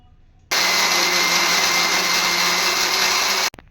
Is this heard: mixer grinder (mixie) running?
yes